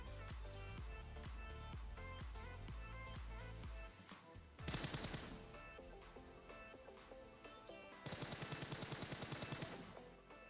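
Faint gunfire in the PUBG Mobile battle royale game, with rapid automatic bursts crackling over a low game soundtrack.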